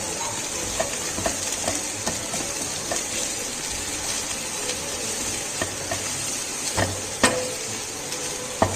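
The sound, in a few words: stirring corn frying in a pan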